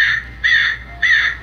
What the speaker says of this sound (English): they got a talking crow of some kind.